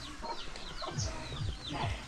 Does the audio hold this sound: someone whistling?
no